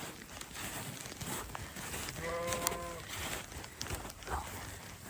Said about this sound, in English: And the sheep are down here.